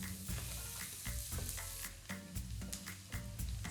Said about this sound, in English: And I'm going to add the minced garlic and the shallot.